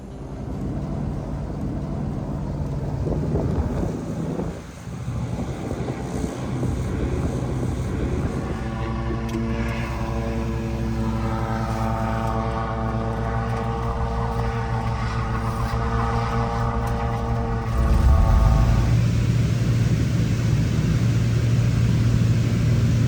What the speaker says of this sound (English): we're heading off in one of these 6-seater Piper Cherokees.